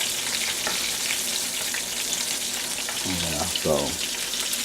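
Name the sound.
shrimp frying in a pan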